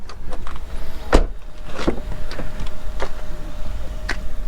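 A manual window crank turned on a well-kept government surplus vehicle, heard as a series of sharp clicking and ratcheting bursts spaced about a second apart over a steady low background rumble.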